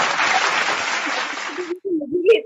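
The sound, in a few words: audience applause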